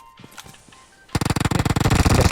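Automatic gunfire in PUBG Mobile erupts midway as a rapid, loud burst of evenly spaced shots after a quieter stretch of faint game sounds.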